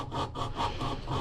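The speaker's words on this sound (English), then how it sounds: "A bit of talking here while I'm sanding" Hand sanding of wood with no power tools, a rhythmic back-and-forth rasp in five even strokes, close and steady with no talk.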